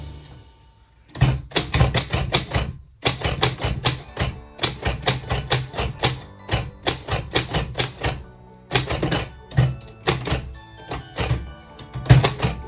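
Manual typewriter typed at close range in quick bursts of sharp clacking keystrokes, with short pauses and heavier thunks between groups.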